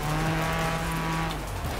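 A VW Passat 1.9 TDI engine in the Forza Horizon 4 racing game drones steadily, a constant tonal hum holding at one pitch with no talk over it.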